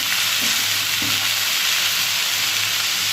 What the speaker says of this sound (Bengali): মুগ ডাল সেই কারণে একটু ভেজে এটা করবো